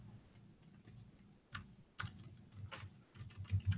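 Computer keyboard keys tapped in irregular quick clicks and clusters, including repeated arrow-key presses, close up with no speech.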